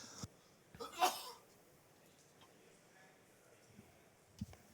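A single sharp sneeze bursts out faintly in the background during a Magic: The Gathering Pro Tour match broadcast, followed by quiet room tone and small incidental noises.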